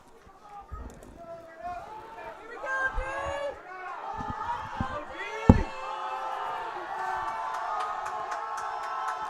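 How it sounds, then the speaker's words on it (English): A high school football crowd at Seymour at Waupaca swells into cheering and chanting that builds and holds, with a sharp thud partway through and a commentator talking over it. "Crowd trying to get the Comets into it."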